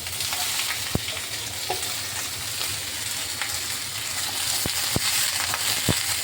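Steady oily sizzle of green chillies and vegetables frying in a little oil, with occasional sharp clicks and scrapes of a spatula stirring the pan.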